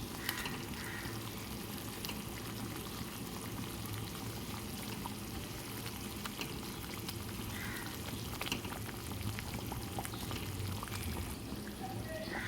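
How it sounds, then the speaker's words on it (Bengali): A pot of egg masala curry bubbles vigorously on the stove, giving a soft, continuous simmering and sizzling texture that stays fairly faint and even throughout. "একদম টকবক করে ফুটে উঠেছে"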